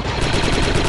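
Sustained gunfire in the military shooter game Shadow of Britain, a dense, continuous rattle of automatic weapons filling the whole second without a break.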